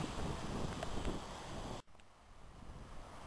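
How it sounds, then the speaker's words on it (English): Strong wind during Hurricane Ike in Friendswood, Texas roars as broad, steady rushing noise buffeting the microphone, briefly dropping out in a momentary cut before resuming slightly softer. "It is getting a bit windier"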